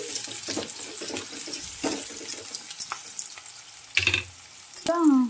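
Sliced onions frying and sizzling in a pan for a Telangana-style onion and egg tamarind curry, with a steady crackle and scraping stirring strokes close by. Clinks of a utensil against the pan come toward the end, and nobody speaks.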